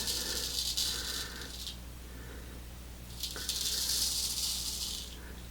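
Safety razor scraping across neck stubble, heard as two bursts of gritty, raspy scratching, near and fairly loud, separated by a short quieter pause.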